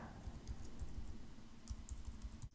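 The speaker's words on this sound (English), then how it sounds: "notice I can start typing here" Quiet, close keystrokes tap out in irregular bursts on a computer keyboard, a soft clicking run with brief pauses and no other sound.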